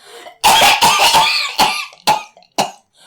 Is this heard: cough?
yes